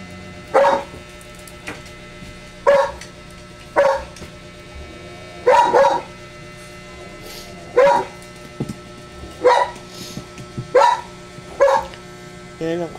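Dogs and puppies bark and yip in a steady string of about a dozen sharp, fairly close barks spaced a second or so apart, with light talk underneath.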